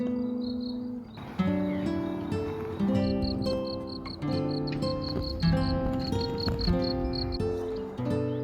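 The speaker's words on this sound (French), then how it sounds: "On entend les grillons." Crickets chirp outdoors in a rhythmic, high-pitched pulsing pattern that rises and falls, while nearby tonal bird or other musical sounds ring out over them at moderate loudness.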